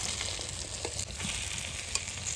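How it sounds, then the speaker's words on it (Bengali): Pieces of pangas fish fry in oil, giving a close, continuous bubbling sizzle with occasional stirring clicks and pops, and no one speaking. "সুন্দর করে মাছগুলো ভেজে নিয়েছি"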